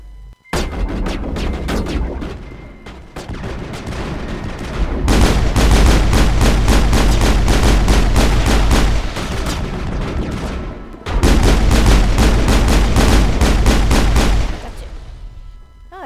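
Mass Effect video game gunfire rattles in rapid bursts of shots with heavier booming blasts, loud and continuous with short lulls between volleys.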